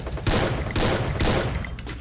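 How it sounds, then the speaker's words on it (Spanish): Gunfire erupts in the battle-royale video game Free Fire as three rapid, loud bursts of automatic shots in quick succession, punchy and close. "¡Ah! Me están disparando de atrás."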